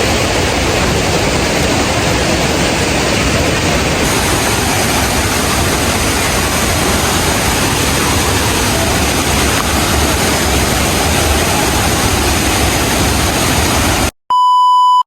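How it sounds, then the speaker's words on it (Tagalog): Hulugan Falls in Laguna pours in a loud, steady broadband roar that continues unchanged for about fourteen seconds and then cuts off abruptly, ending in a short electronic tone. "After an hour na trek mga kagala ay nakarating na rin kami dito sa Hulugan Falls"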